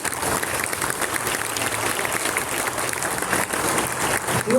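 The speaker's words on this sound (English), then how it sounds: "A round of applause for my son" A crowd applauds a blind football para sports gold medal winner at an awards ceremony: steady, dense clapping throughout, fairly loud and close, with no clear speech.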